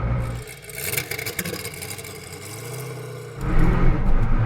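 A Hennessey Venom F5 supercar accelerates hard, its engine note climbing and whirring through a gear, dipping briefly before surging louder again near the end, heard close from inside the car.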